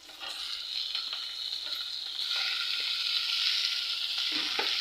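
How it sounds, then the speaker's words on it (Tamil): Steady close sizzling of tomatoes and onions sautéing in a pan, with occasional soft stirring scrapes and no voices. "இதையும் நம்ம நல்லா வதக்கி விட்டுக்கலாங்க"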